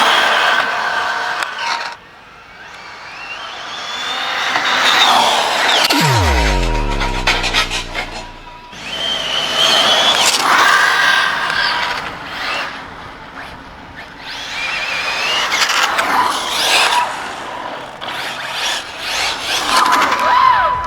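An Arma Felony 1/7 RC car on Method Velociter tires screams at full throttle, its electric motor whine rising and falling in sharp sweeps as it accelerates and races past.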